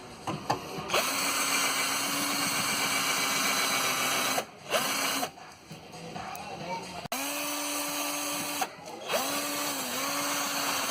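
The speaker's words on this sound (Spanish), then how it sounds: "Voy a destruirlo así con un taladro." A power drill bores out a rivet on a car bumper, its motor whining steadily in long runs broken by a few short pauses, loud and close.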